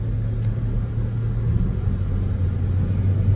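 A car engine idles and rumbles in slow traffic, a low steady drone heard from inside the vehicle, close and continuous with no voices.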